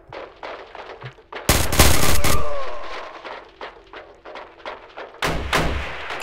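Roblox gunfire crackles in loud bursts, a dense volley near the start and another near the end, with softer scattered shots and game sounds between.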